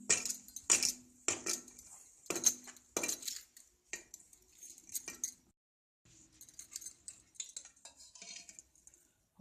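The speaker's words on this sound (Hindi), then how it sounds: "इसको हम अच्छे से मिला लेंगे।" Gobi samosa filling of cauliflower being stirred with oil in a metal bowl, close clinks and scrapes of a spoon in quick bursts, then a brief pause before softer scraping resumes, no talking.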